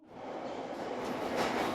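A London Underground train rumbles steadily, a sustained low roar that swells slightly as it runs into a station, with no voices.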